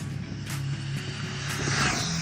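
A Jiusi WB12Pro RC car runs at full throttle, a steady high electric whine that rises slightly and sweeps past, loud and continuous with no talk.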